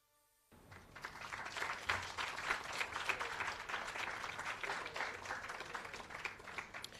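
Audience applause at a Trade Board 40th anniversary employee service awards ceremony, starting abruptly after a brief quiet moment and continuing as dense, sustained clapping from a large room of people.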